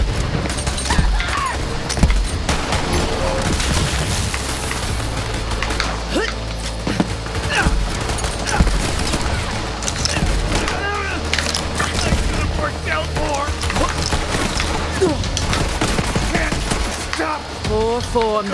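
Dense gunfire from the video game Borderlands 3: rapid shots and impacts pile up almost without a break for the whole stretch, loud and busy, with game voices mixed in.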